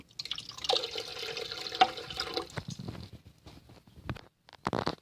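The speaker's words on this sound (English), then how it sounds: "now we're going to add our water to, add our water to where it's 1/4 of the way" Water pours into a power pressure cooker around glass canning jars of homemade vegetable broth, a splashy rushing stream for a couple of seconds, then scattered drips and light clinks.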